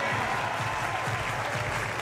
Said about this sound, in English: Get your supporters clapping here as he comes out.